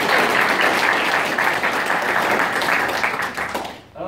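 Sustained applause and clapping from a conference audience fills the room evenly for about four seconds, loud and dense, then fades sharply at the end.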